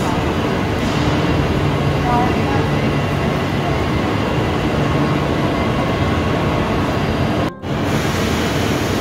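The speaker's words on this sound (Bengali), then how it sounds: "তো আমাদের ট্রেনের নামটা ছিল অবন্তী ওয়েস্ট কস্ট।" Steady loud rumble inside an Avanti West Coast train travelling toward London Euston in cold weather, a continuous broadband roar of wheels and carriage noise with a brief dropout near the end.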